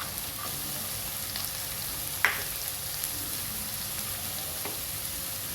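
Beans, cabbage and carrot sauté in a pan for vegetable fried rice, giving a soft, steady sizzle with a few faint stirring clicks and one brief scrape partway through.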